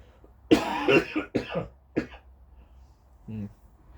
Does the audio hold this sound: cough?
yes